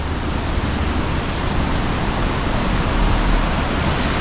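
Rapids and a small stream beside the Franklin Falls trail in Snoqualmie Pass, heard as a steady, loud, broadband rush of water with no breaks and no talking.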